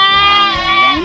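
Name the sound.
goat bleating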